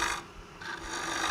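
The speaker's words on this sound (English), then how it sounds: "This is not really a shear cut, it's almost more of a scrape, but kind of a controlled scrape" A lathe tool makes a pull cut, scraping across wood while a lamp is turned, giving rough, raspy bursts that swell and fade in quick strokes at close range, with no speech.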